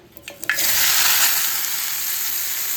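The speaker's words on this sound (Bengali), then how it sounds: "তেলটা গরম হয়ে গেছে, এবার আমি আমলকিটা এই তেলের মধ্যে দিয়ে দিচ্ছি" Amla (Indian gooseberry), 700 grams, tipped into hot mustard oil for pickle: a few soft knocks, then a loud sudden hiss that settles into a steady, close sizzle with no talking.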